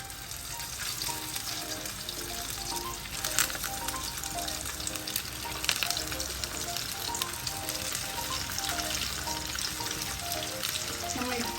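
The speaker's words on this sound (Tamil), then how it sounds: "இது நம்ம மீன் வறுக்கிற மாதிரி தான் வறுத்து எடுக்கணும்" Chicken cutlets shallow-frying in oil over a low flame give a dense, continuous crackling sizzle that holds steady and close throughout, with no speech.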